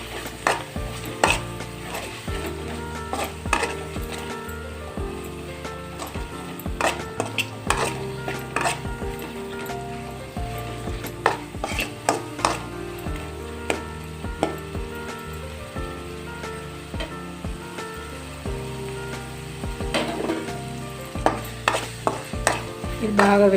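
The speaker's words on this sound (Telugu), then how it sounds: "1 టేబుల్ స్పూన్ పావు బాజీ మసాలా అండి వేసి కాసేపు వేయించుకుందాం." Pav bhaji masala frying in a pan, a steady soft sizzle broken by frequent clinks and scrapes of a spoon stirring against the metal, with no talking.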